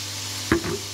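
Wine poured into a hot pan for lasagne rolls hits with a brief, sharp sizzle and hiss that quickly settles into a softer bubbling, heard up close over steady kitchen hum.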